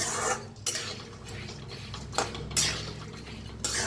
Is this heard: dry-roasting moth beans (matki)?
yes